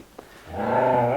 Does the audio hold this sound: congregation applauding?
no